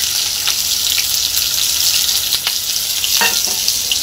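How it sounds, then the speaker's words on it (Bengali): Onion hitting hot oil in a kadai already holding toasted cumin seeds, a loud steady sizzle with a few sharper crackles and scrapes, close up and without talk. "পেঁয়াজ ফোড়ন দিলাম"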